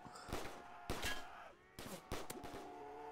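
Gunfire in the Custom Zombies map Alien Defense, heard as several sharp bursts of shots spaced across the moment over a steady electronic game background, with no talking.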